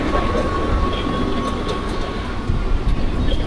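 Mumbai local train running along an elevated track on the Govandi to CSMT line, a steady loud rumble of wheels and carriages with faint rattling, continuous throughout without talk.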